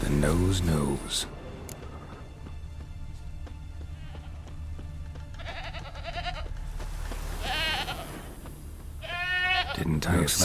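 A goat in the Witcher 3 video game bleats a few times in wavering cries, the strongest toward the end, over a steady low ambient game background.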